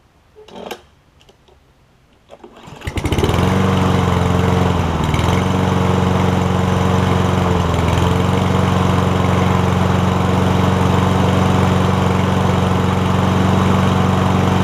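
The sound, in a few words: Toro Recycler lawn mower with Kohler engine starting and running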